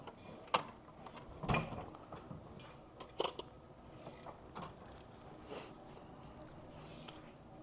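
A ratchet snugs intake manifold bolts on a small block Chevy, giving a few brief, quiet mechanical clicks and clatters spread over a faint, steady background hum.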